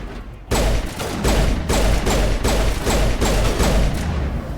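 A grenade thrown and exploding in the Mass Effect video game, heard as a dense run of loud, booming blasts and rapid gunfire-like bursts that start abruptly and continue steadily without talk.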